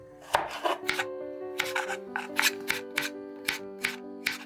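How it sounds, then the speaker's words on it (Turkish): A knife chops a hard carrot finely on a cutting board for sushi, about a dozen crisp, close chops in a steady rhythm with soft background music. "Havucu daha küçük kesiyorum."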